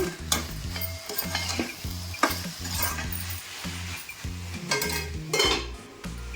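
Drumstick leaves and beetroot stir-frying in a pan, a steady sizzle with a rhythmic scrape of the stirring spoon and occasional metallic clinks, with no voices.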